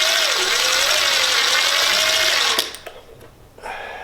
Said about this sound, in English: Now we're firing in a second screw into each bracket, so we're nice and solid.